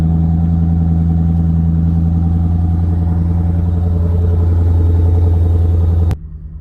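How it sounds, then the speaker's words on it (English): A Lexus LS460 engine with its mufflers removed idles on a cold start with a deep, steady, throaty rumble, loud and close, then cuts off abruptly near the end. "You would think without mufflers the car might be a little louder, but it honestly sounds pretty good."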